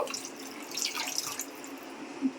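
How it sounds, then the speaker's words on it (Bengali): Clean water running over freshly curdled chhana (cottage cheese) to rinse it, a steady splashing trickle with small drips, fairly close and alone without any talk. "এবার ছানাটাতে একটু পরিষ্কার জল দিয়ে ধুয়ে দেব"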